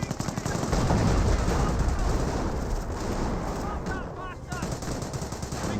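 Tank gunfire and artillery barrage in Company of Heroes, dense rattling bursts and booming impacts packed together loudly, with a voice briefly heard amid the battle noise.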